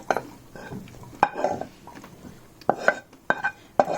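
Cooked vegetables scraped and scooped from a pan into a bowl, with several sharp metallic clinks and scrapes of a utensil against cookware, close and fairly loud, no talking.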